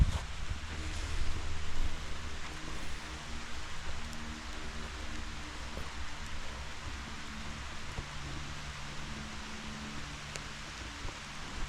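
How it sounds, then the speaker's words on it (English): Rain comes down steadily outdoors over a freshly dug backyard pond, a soft continuous hiss with light patter and some wind, moderately quiet throughout. "and now it's raining"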